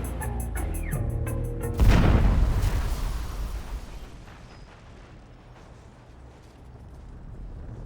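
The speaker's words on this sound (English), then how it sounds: "The rocket landed just 3 feet from the operating theater." A rocket explodes near a field hospital operating theater during the Vietnam War, a sudden heavy boom that cuts through steady noise and rumbles off into a long fading tail.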